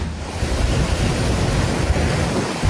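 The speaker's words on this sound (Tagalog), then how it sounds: "Malahiganteng alon at malakas na hangin din ang tumama sa Pio Duran Port sa Albay" Loud, constant roar of giant crashing waves and strong typhoon wind buffeting the microphone at Pio Duran Port in Albay, a dense rumbling wall of noise with no pauses.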